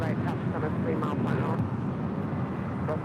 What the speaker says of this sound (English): Coming in from JFK, that is American Airlines Flight 1, that A321T Transcontinental